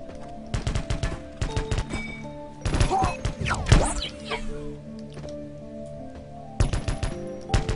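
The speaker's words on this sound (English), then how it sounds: "Use an assault rifle to destroy your targets" Assault rifle fire in the sci-fi shooter Earthrise comes in several sharp bursts of rapid shots spread over the stretch, with thuds and impacts between volleys, loud and close with no voices.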